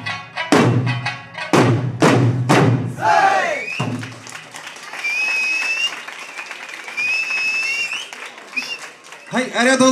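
Applause and crowd noise from the audience after a Yamazato youth group folk performance at a bar's 15th anniversary festival in Koza, with shrill whistles over steady clapping, following loud voices at the start.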